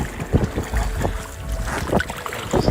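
A canoe paddles through slack water on an Alaska hunting trip, soft irregular paddle splashes and hull knocks under steady wind noise buffeting the microphone.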